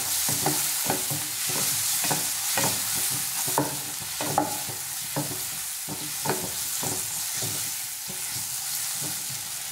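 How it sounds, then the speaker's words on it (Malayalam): Chopped tomato being stirred into a tofu matar masala in a hot pan, with a constant close sizzle and a brisk, regular run of spoon scrapes and taps against the pan, no talking. "ഇനി നമുക്കിതിലേക്ക് ഒരു തക്കാളി മുറിച്ചത് ചേർത്ത് കൊടുക്കാം. നന്നായിട്ട് തന്നെ ഒന്ന് ഇളക്കി കൊടുക്കാം."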